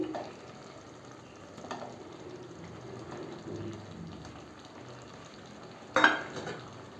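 Boiled eggs, slit so the spices can soak in, dropped into masala frying in a pan for egg curry, a low steady sizzle with a sharper clatter near the end, quiet and close, no talking.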